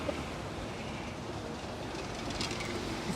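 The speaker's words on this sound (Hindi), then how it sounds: "तो ये मेट्रो आ गई है" A metro train rolls in on a dedicated metro track, its steady rumbling rail noise filling the scene at a constant, moderate level with no voices.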